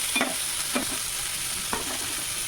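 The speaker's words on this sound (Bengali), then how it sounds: "তারপরে দেবো রসুন তারপরে দেবো পেঁয়াজ পেঁয়াজটা মাঝে লাল লাল হয়ে গেল" Garlic and onions frying in a pan give a steady close sizzle, with a few scraping stirs of a spatula breaking through at intervals.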